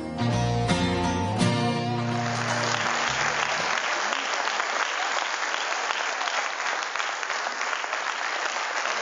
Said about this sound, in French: Les applaudissements, on les prend pas pour nous, on les prend pour le réalisateur Christian Rouault